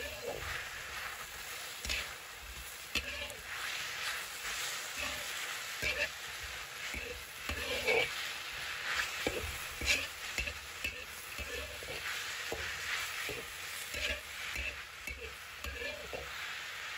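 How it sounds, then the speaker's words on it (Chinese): Green and red peppers stir-fried with king oyster mushrooms in a wok, a steady sizzle broken by repeated scraping and clattering stirs, close and fairly loud throughout. "再煸炒1分钟。"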